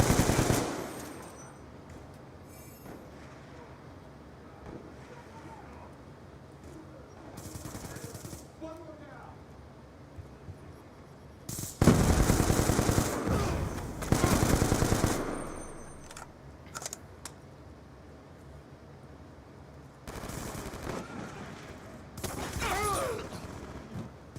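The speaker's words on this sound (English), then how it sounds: "He is camping up top with a thermal LMG." LMG machine gun fire in Call of Duty rattles in several loud sustained bursts among quieter in-game ambience, with shorter scattered shots in between and faint voices under the action.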